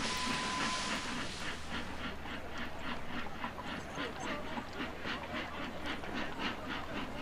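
Steam trains running in the video game Sid Meier's Railroads: a steady, rhythmic chugging repeats evenly throughout over a continuous rumbling background, with a brief thin tone at the very start.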